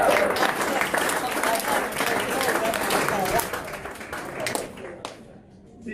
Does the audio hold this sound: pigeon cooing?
no